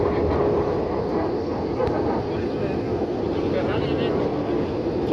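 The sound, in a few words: Avianca Airbus A320 approaching and landing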